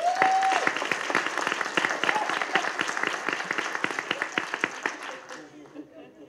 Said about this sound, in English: Please give a round of applause to Felicita.